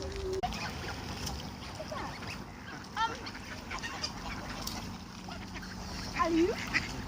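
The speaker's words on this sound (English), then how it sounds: "Look at all these ducks." Ducks and geese calling at Furzton Lake, with scattered quacks and honks rising over a soft outdoor background and brief voices nearby.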